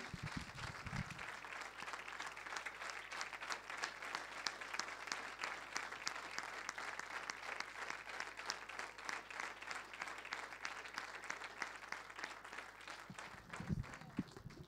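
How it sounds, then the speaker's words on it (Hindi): A church congregation at an Urdu-language sermon claps loudly and steadily for about fourteen seconds, a dense wash of many hands that starts and stops cleanly with no talking over it. "ज़ोरदार तालियां बजाएं"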